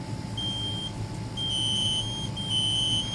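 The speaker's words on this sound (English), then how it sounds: "this last alarm here is the Kidde" A Kidde KN-COSM-IBA combination smoke and carbon monoxide alarm sounds its loud, piercing beeps in repeated pulses over a low background hum, close and with no voices.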